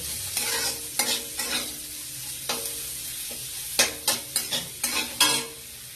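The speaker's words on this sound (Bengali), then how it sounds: "পেঁয়াজটা দিয়ে ভালোভাবে ভাজতে হবে।" Onions sizzle steadily in a hot pan while a spatula scrapes and stirs in irregular bursts, several quick strokes clustered near the end.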